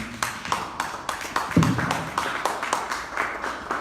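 A church congregation claps in a steady rhythm, the sharp claps evenly spaced and close, with a brief voice rising among them partway through.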